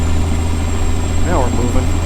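Heavy truck engine in American Truck Simulator, a steady loud low drone while idling out of gear, with a brief rising rev blip near the end for rev matching.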